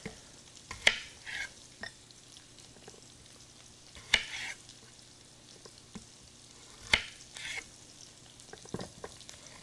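Onions cooking in a pan: a low, steady sizzle with a spatula scraping and stirring in short bursts roughly every few seconds, close by and fairly quiet, with no talking.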